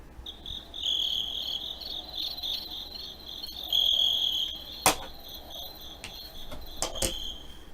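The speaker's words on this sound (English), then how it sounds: "You get crickets." Electronic cricket chirps play from an Instant Audience sound-effect gadget, a shrill pulsing trill repeating steadily at a moderate level, with a few sharp knocks breaking in near the end.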